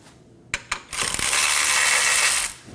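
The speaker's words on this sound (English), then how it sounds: "Now let's go ahead and remove our rear bolt and nut." Ratchet loosening the rear bolt and nut on the forward lower control arm of a 2015-2023 Nissan Maxima: two sharp clicks, then a loud, fast, continuous ratcheting whir lasting about a second and a half.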